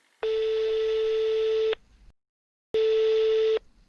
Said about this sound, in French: Bloody Mary, non elle décroche jamais